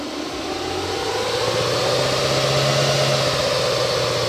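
The engine of a LADA Vesta SW Cross car rises smoothly from idle to about 2500 rpm, a steady close hum that climbs gradually and holds, with no talk over it.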